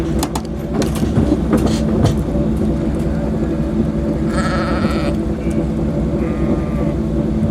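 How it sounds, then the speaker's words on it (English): A flock of sheep near a road bleats over a steady low rumble of a nearby vehicle, with a few loud, clear bleats standing out toward the middle of the stretch. "Like, look at how many sheep there are."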